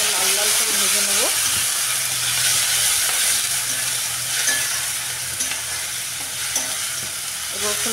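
Onion and garlic fry in a pan with a loud, close hiss and sizzle, while a spoon scrapes and stirs through it at intervals and a brief low rumble sounds early on.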